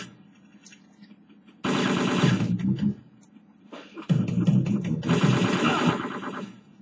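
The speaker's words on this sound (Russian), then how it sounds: "Да блин, я стреляю в него." Gunfire in Syphon Filter 3 comes in two dense, loud stretches of rapid shots, separated by a short lull with only faint background noise.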